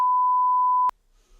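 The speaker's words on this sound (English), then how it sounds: "We can beep that out" A single loud, pure censor beep lasts just under a second over speech, then cuts off abruptly, leaving near silence.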